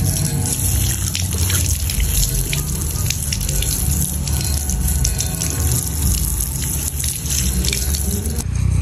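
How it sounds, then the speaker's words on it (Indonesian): Water splashed and sprayed over a small waterproof three-LED mini flashlight, a loud, dense, continuous hiss of running and splattering water lasting the whole stretch without speech. "sekarang kita coba untuk siram ya, karena ini kan sudah tahan air, percikan air ya"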